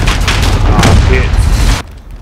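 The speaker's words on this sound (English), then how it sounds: "Why was it throwing fucking frag grenades?" Frag grenade explosions in Call of Duty Modern Warfare, heavy booming blasts rumbling loudly over a couple of seconds before cutting off abruptly into near silence, with players talking over the action.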